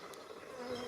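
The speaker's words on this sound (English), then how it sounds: "or no, an early bumblebee." A small early bumblebee buzzes steadily and close among a flowering potentilla bush outdoors, a continuous droning hum with no talk.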